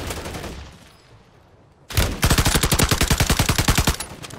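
Automatic gunfire in Warzone 3 erupts after a quiet stretch, a long rapid burst of close, loud shots in a steady rhythm, with fainter scattered shots before it.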